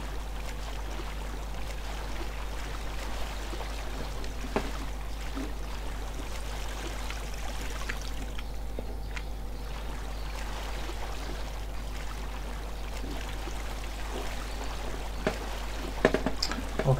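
Flowing water in the Minetest block-building game, a faint, steady trickling wash running continuously with a low hum beneath and a few soft clicks.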